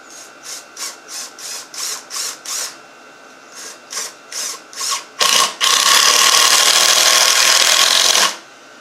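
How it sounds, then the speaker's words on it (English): An impact driver sinking 2.5-inch exterior coated screws into braces in an old barn: a run of about a dozen rapid hammering bursts in even rhythm, then one long loud continuous rattling drive, close with no talk. "Really helps a lot to have an impact."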